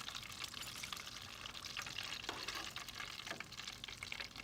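Mushroom and sweet pea arancini fry in a deep fryer, giving off a faint, steady crackling sizzle with no talk.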